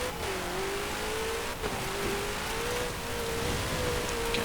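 A V8 engine in a 1952 Hudson Hornet in Forza Horizon 4 holds a steady drone with a slowly wavering pitch, close and continuous under a rain-like wash of noise, with no talk.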